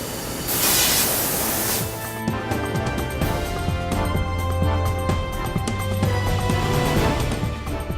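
A powder coat spray system coats a steel safe with a steady, loud hiss and rush of air that runs throughout, with faint mechanical clanks and a low hum beneath it.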